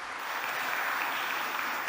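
Steady, dense audience applause fills a medal ceremony in Moscow as Professor Mehmet Haberal goes to the podium, a continuous even wash of clapping without pauses.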